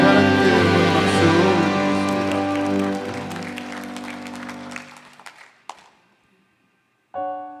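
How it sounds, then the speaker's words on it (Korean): A church congregation claps during Sunday worship, the applause layered over sustained music. The music and clapping fade out, and a few scattered claps and thumps follow before a brief tone sounds at the end. "하나님께 박수."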